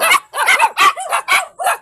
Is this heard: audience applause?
no